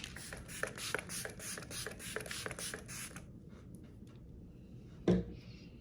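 A setting spray pump fires a rapid series of short hissing bursts for about three seconds, then quiet, followed by one louder single spritz near the end.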